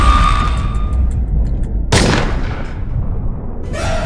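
Gunfire in the video game Fragile: a sharp loud bang with a long booming decay, followed by a second crack near the end, set over a low rumbling game background.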